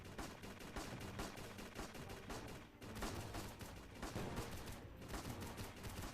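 Rapid bursts of video game machine gun fire, dense repeated sharp shots in rolling volleys with a brief pause midway, loud and continuous, no talking.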